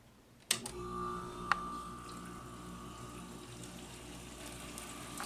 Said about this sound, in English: It's pretty quiet aside from the water that's being sloshed around by the fan outside.